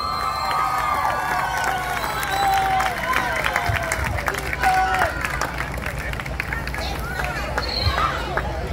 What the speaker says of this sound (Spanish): Más fuerte los aplausos.